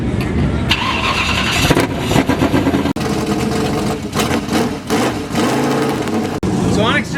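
A dirt track race car engine revs before a heat race, a loud rough roar that surges and dips in repeated bursts with brief cuts, while people talk over it.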